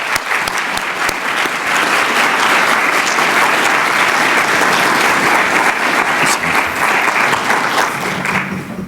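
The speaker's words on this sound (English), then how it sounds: "let's recognize them with a round of applause" Loud, sustained applause from a conference audience at a 25th anniversary gathering, dense steady clapping filling the whole stretch without letting up.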